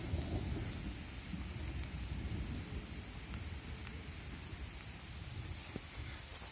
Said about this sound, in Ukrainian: А знов гримить.